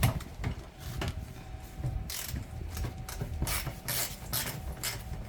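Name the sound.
ratchet loosening 17mm oil drain plug, 6.0 Power Stroke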